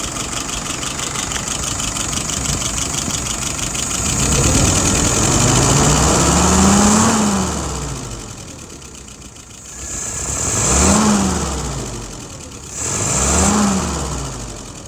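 Car engine after a tune-up, idling steadily and then revving up three times in swelling pulls that rise and fall back to idle, loud and close with no talking.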